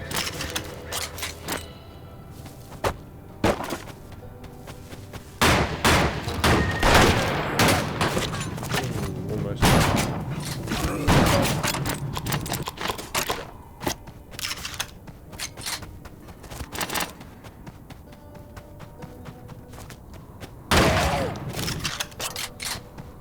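Rapid bursts of gunfire crack through the Western roguelite Colt Canyon, pistol shots fired in fast volleys with short pauses, loud and near, with heavier flurries midway and near the end and no talk.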